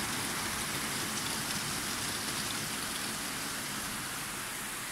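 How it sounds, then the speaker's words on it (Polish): Heavy rain pours steadily after a big storm in a small town with flooded streets, a dense, constant hiss of downpour close by with no talking. "Tak leje"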